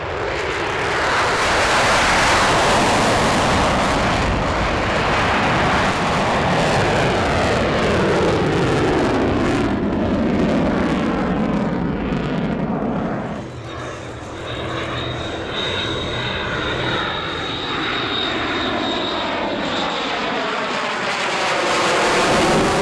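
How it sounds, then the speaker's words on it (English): Loud, continuous roar of an F-22 Raptor jet fighter during a solo air-show demonstration at EAA AirVenture Oshkosh, sweeping past with a Doppler-shifting tone and briefly easing mid-pass before building again. "This jet noise brings us rather seamlessly to that one solo demonstration we missed earlier, which is the F-22 Raptor."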